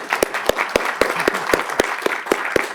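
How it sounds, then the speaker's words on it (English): Applause fills a board meeting room, a steady crowd wash of clapping punctuated by one nearby person's loud, regular claps about every quarter second. "so we can give her a round of applause for."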